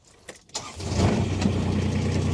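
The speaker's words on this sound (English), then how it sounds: "I'm going to start it." A 2017 Kubota RTV-X900 diesel utility vehicle cranks briefly, then catches and settles into a steady, loud diesel idle with a low rhythmic throb, heard up close with no talking.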